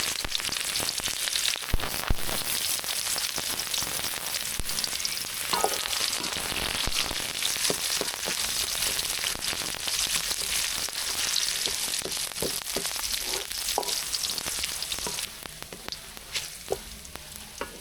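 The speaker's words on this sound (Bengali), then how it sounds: "পেঁয়াজ রসুন লাল লাল করে ভাজা হয়ে গেছে" Chopped onion and garlic frying in oil with cumin seeds for a Bengali dal, giving a steady, loud, close sizzle with occasional stirring scrapes throughout and no talk.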